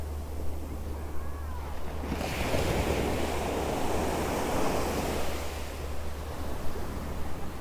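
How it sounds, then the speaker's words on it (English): Ocean waves wash and crash on a Miami beach, a steady broad rush of surf with wind buffeting the microphone, swelling louder after the first couple of seconds. "Let me know if you guys could hear the sound of the waves crashing."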